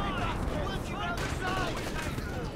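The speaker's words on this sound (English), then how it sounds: "There's howitzer fire coming in here from the British officer." Howitzer artillery fire in the Company of Heroes 2 video game, with dense rumbling blasts and crackling battle noise under continuous commentary.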